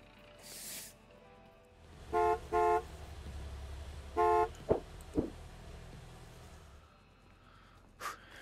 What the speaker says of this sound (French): Pourquoi vous klaxonnez?